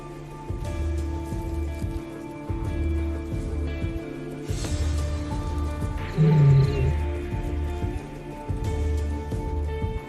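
A lioness in the African wild gives a short, deep roar-like growl while squaring off against a female cheetah guarding her cubs, rising midway over a steady low rumble and soft background noise.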